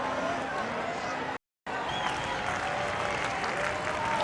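A baseball crowd in Sacramento stands and cheers during an Athletics–Astros game, a loud continuous roar of applause and shouting with a brief dropout. A commentator's voice is partly heard under the noise.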